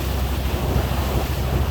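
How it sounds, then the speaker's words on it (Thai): A tugboat moves along the Pattani River. A steady, loud wash of water and wind rushes past throughout with a low droning undertone and no voices. "วันนี้เรามากับเรือลากจูงในแม่น้ำปัตตานีครับ"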